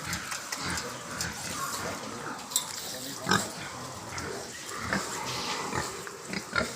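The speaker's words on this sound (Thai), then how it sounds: "เดี๋ยวไปดูหมูกินน้ำกัน ดูครับดูความฉลาดของหมูนะครับกินน้ำนะครับ" On a pig farm, pigs drink from a water trough with wet slurping and splashing and occasional grunts, heard close up, while someone talks over them throughout.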